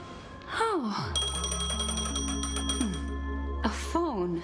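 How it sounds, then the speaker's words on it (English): Phone in Honkai: Star Rail rings, a sustained electronic ring with steady tones running for several seconds while voiced sighs or gasps sound at the start and end. "A phone. Wanna listen in?"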